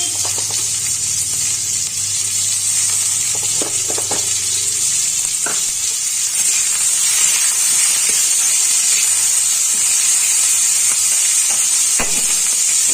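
Chopped onion frying in hot oil in a pan for a shrimp dish, a loud continuous sizzle and hiss close up, with occasional clinks of stirring.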